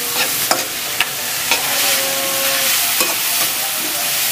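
Onion and tomatoes sauté in a pan with a close, steady sizzle and frying hiss, while a utensil stirs with regular scraping taps against the pan.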